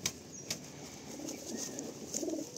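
A racing pigeon flaps its wings in soft, quick flutters mixed with low cooing, faint and close in a quiet loft.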